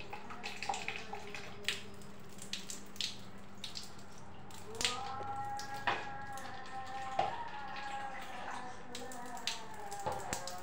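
Water from a tap or pail is poured over a small child's head at bath time, with a faint running trickle and splashes. A woman coaxes the child in a soft voice throughout.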